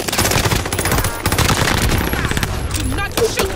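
Dense, loud bursts of rapid automatic gunfire in Call of Duty: Modern Warfare, nearly continuous close-range shooting for the whole stretch, with a brief voice near the end.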